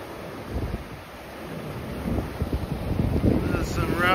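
Rough, rainy weather at a harbor at about 40 degrees, with steady wind rushing and buffeting the microphone, building in strength over a few seconds, with no talking.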